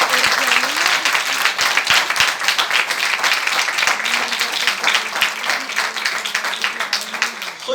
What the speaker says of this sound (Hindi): आप अपने खुदा के लिए बहुत सारी तालियां बजा सकते हैं।